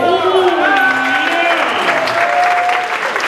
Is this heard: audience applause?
yes